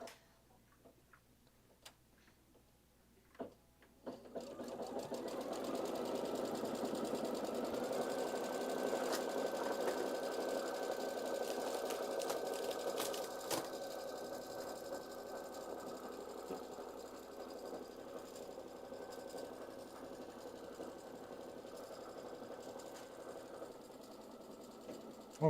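After a quiet start, an embroidery machine stitches a placement line across the full width of its hoop for a wall hanging, with a steady rapid ticking and motor whir that runs on evenly.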